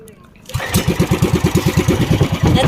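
A boat engine cranks and catches, then settles into a steady, rapid thumping putter of regular pulses, loud and close, with a water setting around it.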